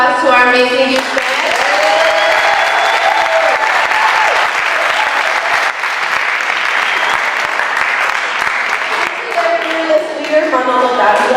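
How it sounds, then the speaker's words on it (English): A large town-hall audience at a community peace event applauds a youth band, with loud, dense clapping sustained for about ten seconds and some voices mixed in, easing off at the end as music resumes. "Let's give a big round of applause to our amazing youth band."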